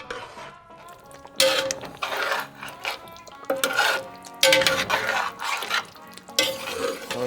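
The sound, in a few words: stirring tomato paste into a pot of turkey stew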